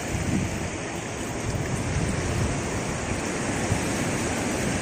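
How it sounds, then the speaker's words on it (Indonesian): Ocean surf at Coro beach washes in a continuous loud roar of breaking waves, with wind buffeting the microphone throughout and no voices. "Kita udah sampai di pantai"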